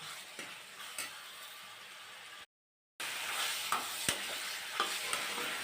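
Onions and tomatoes fry with ginger-garlic paste in a pan for a fish-egg curry, giving a steady, soft sizzle with a few faint clicks and a brief silent gap partway through.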